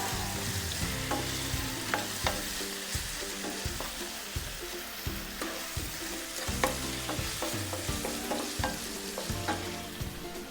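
Chilli chicken pieces with pepper powder being stirred in a hot frying pan for a street-food style dish, a steady sizzle broken by repeated scraping strokes of a spatula at close range, with no talking.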